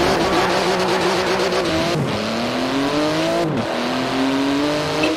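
In the Forza Horizon 4 video game, a street-legal car's engine revs hard and loud, rising in pitch through gear changes with brief drops between shifts, while tires squeal faintly; no talking.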